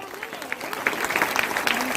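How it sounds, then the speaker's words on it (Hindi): A crowd at a DXN gathering applauding loudly, dense sustained clapping with a voice talking over it. "जो लोग बैठे हैं उनके लिए जोरदार ताली मारो"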